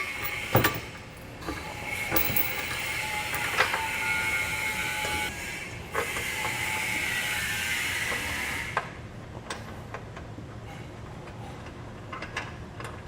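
Hardware being fitted while a trailer hitch receiver is secured beneath the rear of a 2010 Toyota Highlander, giving a steady background of mechanical clicks and ratcheting taps with a few sharper knocks, fairly close, with no talking.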